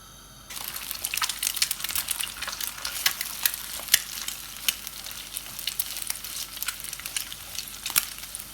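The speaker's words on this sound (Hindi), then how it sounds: "अब हम एग को स्क्रैम्बल करेंगे, थोड़ी सी हीट लग जाए पहले" Eggs scramble in a hot oiled pan, a continuous sizzling hiss with scraping and stirring taps that starts after a quiet moment and carries on at an even level.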